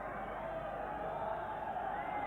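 Boxing arena crowd at an IBF Inter-Continental super middleweight bout, producing a steady, dense roar of cheering and clapping that holds at one loud level throughout, with no single voice standing out.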